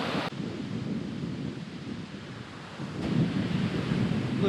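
Wind gusting outdoors on a walkway, a low rumbling roar buffeting the microphone, easing slightly midway and then swelling again, with no voices.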